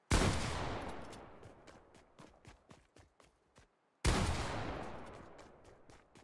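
Two long bursts of rapid video-game gunfire, each starting loud and sharp and trailing off into scattered shots, with a brief silence between them.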